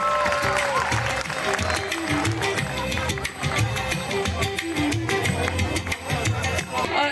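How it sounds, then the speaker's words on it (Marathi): A crowd at an award ceremony applauds for several seconds, a dense patter of clapping heard from among the audience. Music and voices run underneath. "सर्वांनी टाळ्या वाजवायच्या आहेत."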